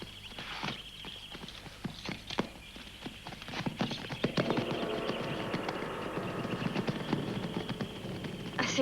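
Horses' hooves clip-clop on hard ground in a 1963 Roman gladiator film as riders set off, irregular hoofbeats building into a busier, louder clatter of several horses moving away.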